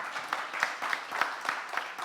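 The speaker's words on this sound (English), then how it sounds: "Yes, round of applause." Applause from an audience at a pizza contest awards ceremony, with a steady wash of many hands clapping and slight rhythmic swells, moderately loud with no voices.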